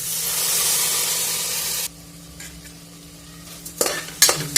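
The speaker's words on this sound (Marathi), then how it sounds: "आपला मसाला शिजलाय बहुतेक सगळं. मस्त झालंय. तांदूळ याच्यामध्ये ॲड करून घेऊ." Masala sizzles loudly in a pan for khichdi, then the hiss drops away as rice goes in and a spoon stirs with a few scraping clinks, with no talking.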